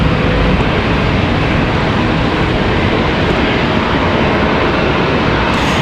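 American Airlines Boeing 777 arriving at Charlotte Douglas airport, a loud, steady broadband jet roar that stays constant throughout.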